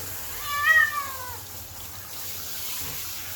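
A Sphynx cat lets out one drawn-out, wavering meow during a bath, heard over a steady hiss of running tap water that continues after the call fades.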